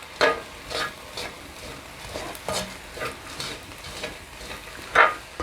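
A side dish being stir-fried in a pan with two spoonfuls of oligosaccharide syrup added for gloss, heard as soft sizzling and several separate scraping stirs of a spatula, with no talking.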